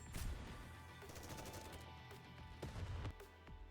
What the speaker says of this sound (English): Gunshots and explosions erupt everywhere